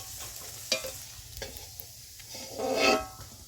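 Fuchka puffs frying in hot oil at home, a soft continuous sizzle with occasional stirring clatters and a louder burst of bubbling toward the end, no voices.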